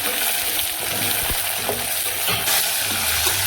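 Chopped tomatoes fry in a hot pan for khichdi, a steady close sizzle running throughout with soft stirring scrapes mixed in.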